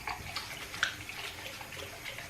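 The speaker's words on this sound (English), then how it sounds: "I'm gonna turn the water off so I don't waste water." Tap water runs steadily while a makeup brush is rinsed and swirled on a silicone brush cleaning mat, a continuous splashing wash at close range with no talking.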